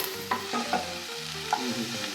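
Chopped onions and green chilies frying in hot oil, with a steady close sizzle and several soft scrapes and knocks of a spatula against the pan.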